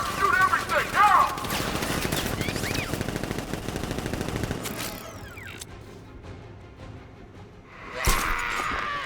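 Automatic gunfire from enemies in the video game Batman: Arkham Knight, a dense rapid fusillade of shots dominating the first half, then dropping away to quieter game ambience with a brief burst near the end.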